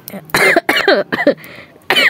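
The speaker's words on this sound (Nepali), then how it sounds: "खोकी लाग्यो सरी" A woman coughing in several harsh, loud bursts close to the microphone, separated by short pauses, with one final burst after a brief gap.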